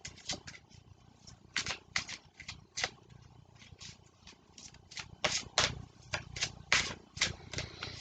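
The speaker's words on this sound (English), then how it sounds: "I am going to draw one more of these cards." Oracle cards are handled and shuffled close up, with a rapid series of soft riffling flicks and papery slides coming in uneven bursts, quiet overall with no talking.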